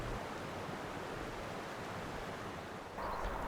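Tulabi Falls roars as a steady, broad rush of falling water, constant and moderately loud throughout with no voices.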